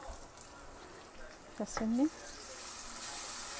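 Onions browning in a pan for a chicken liver dish, giving a quiet, steady sizzle throughout, briefly overlaid by a short vocal sound midway.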